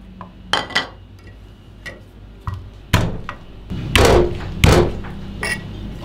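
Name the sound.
smashing garlic cloves for garlic oil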